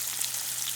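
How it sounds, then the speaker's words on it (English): Lake trout pieces frying in hot oil in a pan, a soft, even crackling sizzle with light pops, faint and steady throughout. "we just added the fish to the oil. Just pop them in right now"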